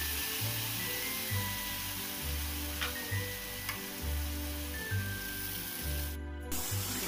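Ground ginger, green chilli and tomato paste sizzle steadily in hot oil in a pan, a close continuous frying hiss with faint rhythmic ticking underneath and no talk.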